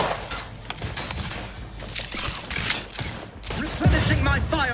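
Gunfire from The Outer Worlds 2 video game, several shots mixed with clanking mechanical effects and combat noise, with people talking over it.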